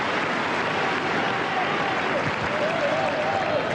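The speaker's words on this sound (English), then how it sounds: "the crowd just starting to really get into this now, making their feelings known" Australian Open tennis crowd applauding during a fourth-round match in 2003, a steady dense clatter of clapping filling the arena throughout, with faint murmured voices and a whistle rising over it.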